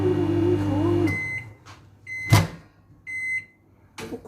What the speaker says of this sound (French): il y a du bruit dans mon micro-ondes